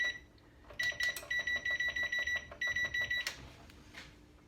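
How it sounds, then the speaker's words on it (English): Kitchen timer being set while a carrot cake goes into a preheated oven: a rapid run of bright electronic beeps in quick clusters, close and clear, followed by a short pause and a final beep, with faint kitchen noise behind. "And I'll set the timer for 50 minutes."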